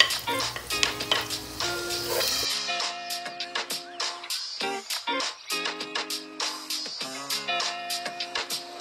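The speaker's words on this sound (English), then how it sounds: "Then let's start sauteing garlic and onion." Garlic and onion sautéing in about three tablespoons of cooking oil, heard as a brief sizzle that gives way to a dense run of spatula and utensil clatter against the pan, close and busy, no voices.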